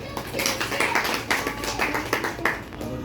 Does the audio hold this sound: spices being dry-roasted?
no